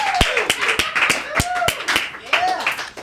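A studio audience claps to welcome Rhett and Link. The applause comes as loud, sharp clap bursts over about three seconds, mixed with voices and cheering.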